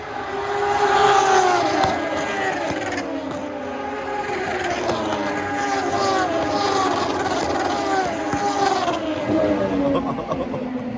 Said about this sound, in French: Ah, le petit rupteur en bout de ligne droite